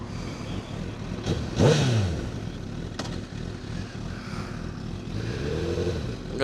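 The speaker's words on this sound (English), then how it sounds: "That exhaust sounds amazing." A 2009 Honda CBR1000RR sport motorcycle engine revs up sharply and then settles into a steady idle, with a throaty exhaust note close by.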